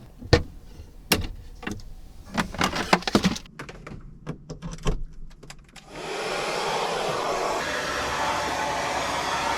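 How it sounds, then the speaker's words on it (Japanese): Scattered clicks and knocks give way to a steady, loud whooshing hum of a ventilation fan that runs continuously to the end. "このマルチルームの換気して乾かします"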